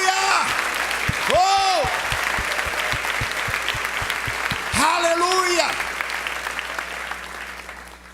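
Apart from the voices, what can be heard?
congregation applauding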